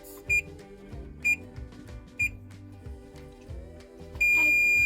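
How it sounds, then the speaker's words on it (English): A kitchen timer set while baking chocolate chip cookies goes off: three short, evenly spaced beeps, then one steady, loud tone held to the end, all over a faint background hum. "Our timer just went off, so we have to turn it off."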